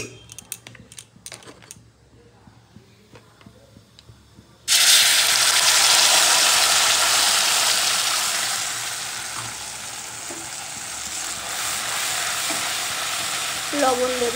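Spice paste hits hot oil with eggplant and nigella seeds in a pan, bursting into a loud, steady sizzle that stays strong to the end after a quieter stretch of light stirring at the start.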